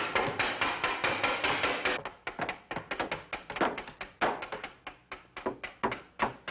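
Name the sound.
hammer knocking apart a wooden box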